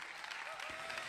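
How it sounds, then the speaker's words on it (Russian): A graduation audience breaks into brief, dense applause, a short burst of many hands clapping together at moderate volume. "Огромные аплодисменты давайте дадим ей"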